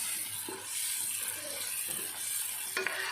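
Crickets being stir-fried in a pan, a steady sizzle with scattered scraping strokes of a utensil and a sharper clatter near the end, no voices.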